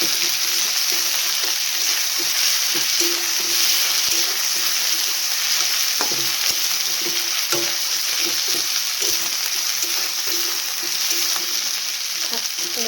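Onions fry with ginger, garlic and chili paste in a hot pan, a continuous loud sizzle broken by scraping stirs, with no talking.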